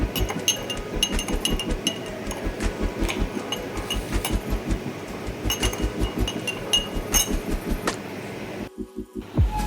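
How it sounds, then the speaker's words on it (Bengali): Yogurt whisked with a little water in a bowl: rapid, rhythmic clinking and tapping of a utensil against the bowl, close and steady for several seconds before a brief pause. "আগে অল্প জল দিয়ে আগে দইগুলো একটু ফেটিয়ে নিই"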